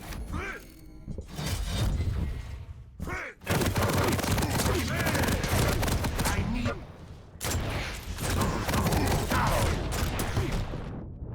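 Heavy machine gun fire in a competitive video game duel: dense, loud, sustained bursts of rapid shots with other game effects, running almost without pause across the whole stretch.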